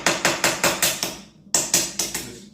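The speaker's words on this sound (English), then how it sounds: "Light hammer action here." Light hammer tapping on a part of a Baja GY6 150cc ATV engine during a rebuild, near the valve cover: two runs of sharp, close metallic taps, about five evenly spaced then a pause, then four more, each fading quickly.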